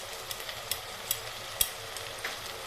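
Spices and coriander are stirred in a frying pan while cooking radish with mola fish, a steady close sizzle broken by small scraping clicks and taps of the stirring.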